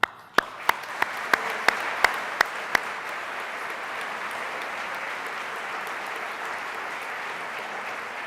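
An audience at the Pride of Guernsey Awards 2020 applauds again in tribute to health workers. A few sharp, loud claps come first, then steady, sustained clapping continues throughout.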